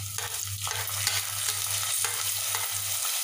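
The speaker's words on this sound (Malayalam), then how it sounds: "നന്നായി ഒന്ന് ഇളക്കി കൊടുക്കാം." Ginger being stirred in a hot pan for lemon pickle gives a steady close sizzle with scraping spoon strokes over a constant low hum, and nobody speaks.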